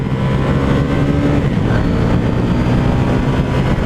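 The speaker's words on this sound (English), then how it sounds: "Hit the rev limiter." A KTM 790 Duke motorcycle engine screams loud and close in first gear against its rev limiter, a steady, harsh roar that holds without letting up.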